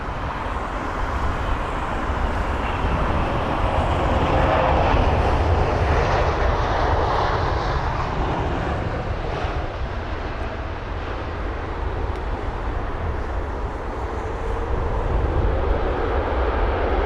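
An Etihad Airbus A380 at London Heathrow, heard as a loud, steady roar of jet engines that holds for the whole stretch, with a broad rumble and no voices.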